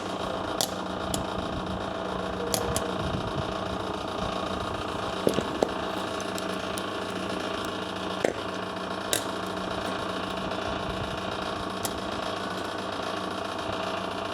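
A Clausing 4210 5-by-12-inch precision plain cylindrical grinder runs with its hydraulic pump on, giving a steady mechanical drone and hum with a few faint clicks and knocks, no talking.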